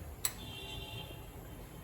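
A gas stove ignition gives a single sharp click, heard once near the start and followed by a quiet hiss, as a kadhai of oil is set to heat for cooking aloo palak sabji.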